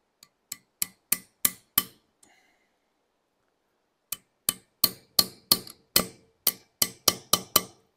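A small hammer taps a part into place on a Mitsubishi Colt Ralliart engine: sharp, close metallic knocks, five in a row, then a pause, then about ten more in a quickening series.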